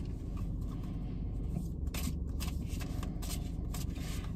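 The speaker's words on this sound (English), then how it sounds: "I'm actually going to shuffle these cards again real quick." Tarot cards are shuffled in a quick series of soft, papery riffles and flicks, quiet and close, with rapid bursts repeating for several seconds over a low background hum.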